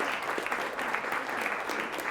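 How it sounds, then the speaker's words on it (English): Steady applause from a studio audience after a high school varsity quiz semifinal game, a dense even clapping that holds at a moderate distance for the full stretch with no voices on top. "How about a round of applause for both teams?"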